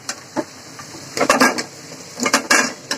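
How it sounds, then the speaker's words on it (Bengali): Flat beans, cauliflower and potato tipped into a pan of spiced fish curry, giving a few clattering knocks and scrapes against the metal pan, with a burst of clatter in the middle and another near the end. "বন্ধুরা, মশলার থেকে তেল ছেড়ে দিতে আমি এখন তরকারিতে দিব এই সিম, ফুলকপি আর আলু।"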